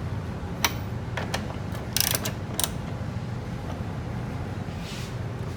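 A ratchet tightens the hood bolts on a 2010-2015 Chevrolet Camaro SS, giving a few quick close clicking bursts over a steady background hum, with no voices.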